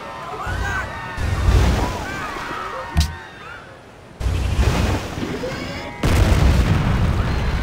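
Naval bombardment from a fleet of destroyer ships in Civilization V, with repeated heavy booms and splashing blasts over a steady rumbling sea wash, one sharp crack partway through, loud and close throughout.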